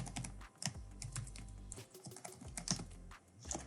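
Fast typing on a computer keyboard while setting up an Omron ZW-7000 series thickness measurement, with bursts of close, crisp key clicks in short runs and brief pauses.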